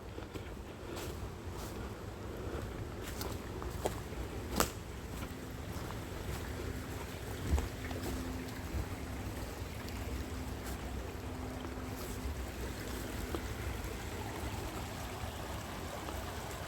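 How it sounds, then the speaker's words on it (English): Fast-flowing stream rushing through Porters Woods in Wigan in total darkness at night, a steady broadband wash of water running continuously throughout with faint wind noise and no talking. "So the water is flowing fairly fast."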